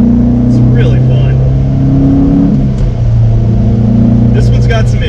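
Toyota MR2 SW20 mid-engine sports car on the road with a fifth gear that tends to pop out, its engine holding a steady close drone with a slight rise in revs, overlaid by voices talking.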